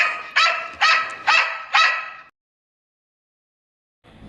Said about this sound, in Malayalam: ഈ പട്ടി ഇങ്ങോട്ടാണല്ലോ വരുന്നത്